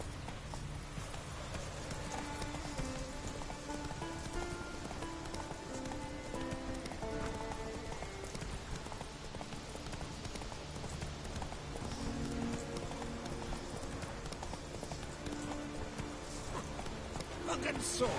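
Horse hooves clip-clop at a gallop in The Witcher 3 video game, a steady rapid drumming rhythm that is faint and continuous throughout, with game voices and music mixed underneath.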